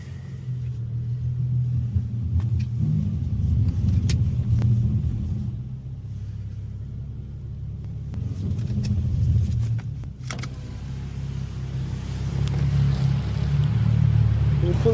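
An Infiniti G37X rolls slowly into a garage bay, its engine a steady low rumble that swells and eases over the whole stretch, with no talking.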